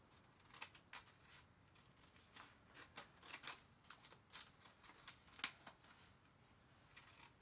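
Scissors snip through coffee-dyed journal paper in quick, crisp cuts that arrive in uneven bursts. The cutting sounds close but quiet, and nobody speaks over it.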